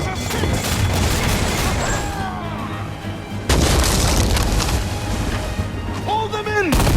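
Ship cannons firing in the Assassin's Creed Freedom Cry video game, heavy booms over a dense battle mix, with a big blast near the middle and shouted orders heard throughout.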